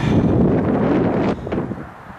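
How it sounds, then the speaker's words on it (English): Strong wind in Wisconsin buffets the microphone in a loud, rumbling roar near a park and highway, easing slightly toward the end; no one speaks. "Another windy day here in Wisconsin."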